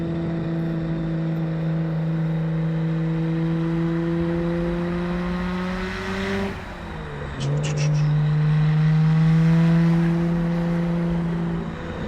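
A Nissan Skyline GT-R R34 engine climbs steadily in pitch under heavy acceleration, dips at a gear change around the middle, then surges again, loud and close throughout.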